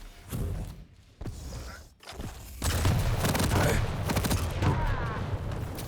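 Rockets and guns fire in a competitive first-person shooter match, with rapid thudding blasts and bursts of gunfire layered densely over a continuous game din, growing louder and busier in the second half.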